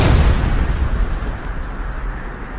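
An explosion in the Blue Archive video game bursts loudly at the start, then decays into a long, rumbling, hissing roar that slowly fades.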